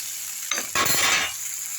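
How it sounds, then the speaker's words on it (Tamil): Amaranth greens for chutney hit a hot pan with a sudden burst of sizzling, a brief clink, then settle into a softer steady fry, close and without speech. "அடுத்து இந்த அரைக்கீரை போட்டுக்கலாம் எல்லாத்தையும் நல்லா வதக்கிடலாம்"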